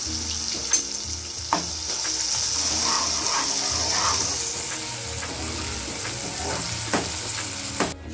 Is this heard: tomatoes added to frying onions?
yes